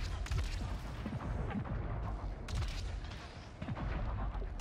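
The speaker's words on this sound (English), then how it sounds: "It's a sticky grenade launcher." A sticky grenade launcher fires repeatedly in the video game Returnal, sending quick thumping shots and blasts in a rapid, irregular series through dense combat noise, fairly quiet overall.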